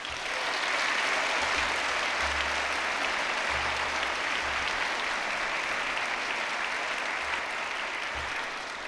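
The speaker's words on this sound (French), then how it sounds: "Applaudissons nos invités d'honneur." Sustained audience applause fills a university education faculty graduation ceremony, a steady wash of many hands clapping for the guests of honour without a break.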